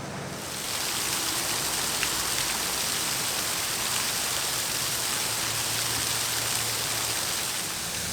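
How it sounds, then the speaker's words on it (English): A small waterfall, about 30 feet tall, in the middle of town in Hot Springs, South Dakota, gives a continuous, even hiss of falling water, close and steady throughout. "Well, this is a surprisingly beautiful little waterfall."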